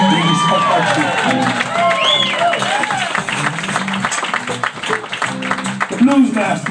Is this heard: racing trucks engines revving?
no